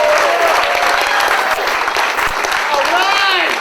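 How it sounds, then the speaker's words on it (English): A crowd claps loudly at an outdoor workers' and retirees' protest rally, a dense continuous patter close to the microphone, with voices and whistle-like cries rising through it. "Let's give one more clap."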